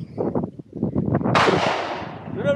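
A single sharp, loud gunshot cracks out during tactical shooting training, ringing into a long decaying tail, preceded by someone talking.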